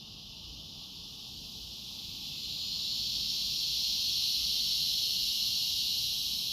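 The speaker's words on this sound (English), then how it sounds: "Hi, cicadas." Cicadas droning loudly outdoors, a steady high-pitched buzzing hiss that swells slightly in intensity and then holds constant, with no talking.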